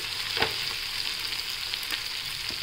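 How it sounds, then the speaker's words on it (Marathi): Vegetables fry in a pan while being stirred, giving a continuous close sizzle broken by a few sharp scraping strokes. "त्याला एकदा व्यवस्थित हलवून घेऊया।"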